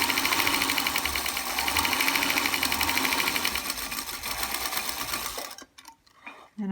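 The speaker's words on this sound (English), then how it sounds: "Now I sew a 1/4 inch from the line." A sewing machine stitching a seam a quarter inch from a drawn line, a fast, even mechanical whir with a rhythmic needle patter, running close and steady before stopping abruptly near the end.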